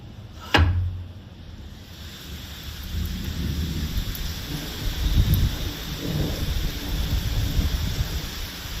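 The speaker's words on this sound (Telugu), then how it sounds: "ఇక్కడ వర్షం పడుతుంది" Steady rain pours down outdoors at Wanaparthy, Telangana, a dense continuous hiss that swells in waves, opened by one sharp nearby crack of thunder with a deep rumble trailing after it.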